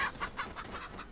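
A chicken in the Resident Evil 4 video game clucks in a quick series of about five short, close, sharp bursts.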